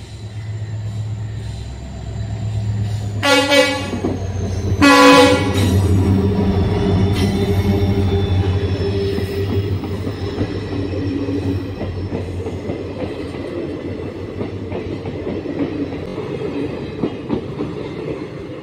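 A train pulling into Kalchini railway station sounds two loud horn blasts, then rolls in with a low, continuous rumble and faint clatter of wheels that gradually settles.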